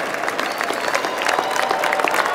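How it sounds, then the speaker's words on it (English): A crowd at a university winter commencement claps steadily, a dense patter of many hands applauding together. "Will the graduates stand up and applaud them?"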